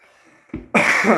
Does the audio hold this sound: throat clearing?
yes